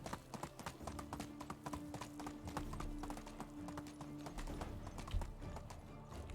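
A ridden horse clip-clops at a steady trot in the Medieval Dynasty video game, with crisp evenly spaced hoof strikes and a low ambient hum beneath.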